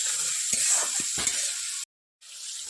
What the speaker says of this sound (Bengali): একটু ভাজা ভাজা হবে একটু মশলাটা একটু ভালো করে একটু